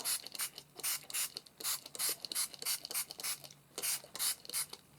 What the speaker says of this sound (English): So now I'm going to spray